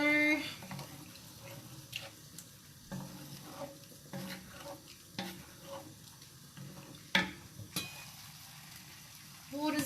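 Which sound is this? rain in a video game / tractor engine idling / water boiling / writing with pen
water boiling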